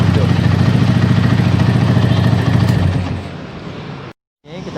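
A Honda Tiger motorcycle with a new regulator and battery that is still undercharging runs with a loud, rapid engine chatter, then winds down and cuts out into a brief silence before noise returns.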